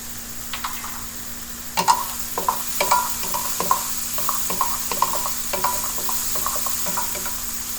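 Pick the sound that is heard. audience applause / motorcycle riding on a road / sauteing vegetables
sauteing vegetables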